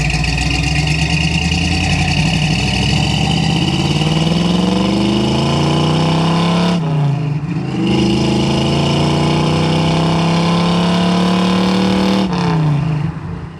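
A 1970 Ford Mustang with a 302 V8 and four-speed pulls under throttle on a drive, the engine note rising steadily and loud, dipping briefly at two gear shifts before climbing again, with no talking.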